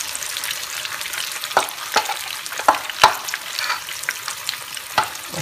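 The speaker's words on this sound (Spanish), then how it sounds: "yo voy a seguir friendo mis albondiguitas para luego ponerlas en la salsa que hicimos" Sprout meatballs made from lentil, wheat and chickpea sprouts fry in a pan, a continuous close sizzle broken by several sharp stirring scrapes.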